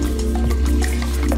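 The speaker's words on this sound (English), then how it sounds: "fill it up with water" Water running into a saucepan that already holds a carrot and potatoes, a loud close gurgling pour with splashes and bubbling over a low hum.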